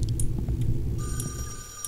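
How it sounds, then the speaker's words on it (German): A telephone rings inside a horror video game, its bright electronic tone starting midway and sustaining over a dense, low rumbling game ambience. "Wo ist hier ein Telefon?"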